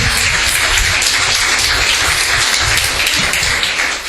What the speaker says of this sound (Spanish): Un fuerte aplauso a Jesús